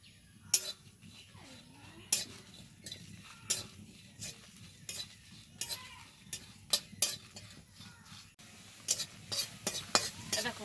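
Dried red chillies and whole cumin seeds dry roasting in a pan, with repeated sharp stirring scrapes and clinks of a spatula against the metal over a low crackle, close up and fairly quiet.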